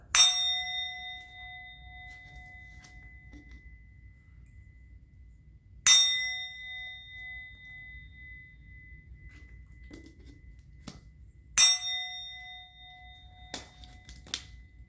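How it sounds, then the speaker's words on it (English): A bell rung three times at slow, even intervals, each strike a bright clear ring that decays over several seconds, with a couple of soft small taps in between and no talking. "I am going to ring the bell."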